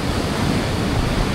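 Large ocean waves breaking during a fishing trip at sea, a loud, close, continuous rushing wash of surf with wind noise and no talk.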